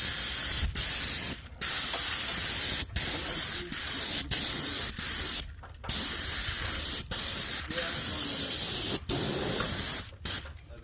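A Graco airless paint sprayer fitted with a low-overspray tip hisses in loud, steady bursts while painting a house, each spray pass running a second or more and broken by short pauses as the trigger is released.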